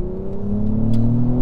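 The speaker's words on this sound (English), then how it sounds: "And then the revs really kick up. And now we are in full sport plus mode." A 2023 Acura TLX Type S engine revs in sport plus mode, a close, loud, steady engine drone with rising harmonic tones over a short burst.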